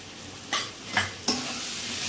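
Potatoes being stir-fried with beaten sour yogurt in a pan, a constant soft sizzle broken by three quick spatula scrapes.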